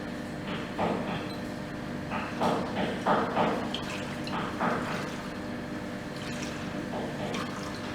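Soil suspension shaken by hand in a hydrometer test cylinder in a geotechnical lab, a continuous muffled sloshing and gurgling with rhythmic surges, close and steady, no talk.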